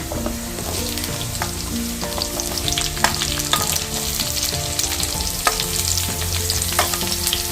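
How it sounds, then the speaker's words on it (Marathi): Onion goes into hot oil already holding ginger, garlic and green chillies, frying in a steady loud sizzle with occasional stirring clicks and no talk. "आता ह्याच्यामध्ये मी कांदा आहे तो घालते"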